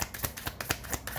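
Tarot cards shuffled by hand in a quick, steady flurry of crisp riffling bursts, close up and fairly loud with no talking.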